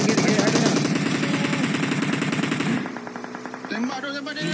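Rapid automatic gunfire in a video game, loud and continuous for nearly three seconds, then lighter repeated shots and clatter with a final short burst.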